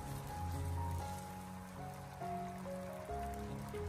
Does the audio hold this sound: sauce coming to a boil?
yes